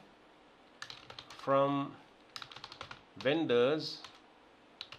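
Computer keyboard typing in quick irregular bursts of clicks while someone talks over it, entering a SQL join query.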